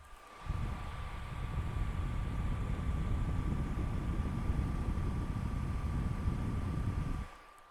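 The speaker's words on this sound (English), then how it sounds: "And you can listen to the fans behind the MSI." Cooling fans of an MSI GT62VR gaming laptop spun up to maximum, a steady broadband whoosh with a faint constant whine, picked up close from the rear vents, starting and stopping abruptly.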